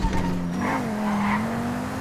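A car in the GTA Online video game skids with a steady, sustained tire squeal over engine drone, loud and close, with no talk.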